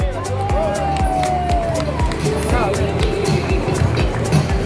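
Spectators at the finish of a trail race, the Kilomètre Vertical de la Roche Écrite, clap and cheer steadily as a runner comes in, with loud rhythmic claps close by and crowd noise throughout.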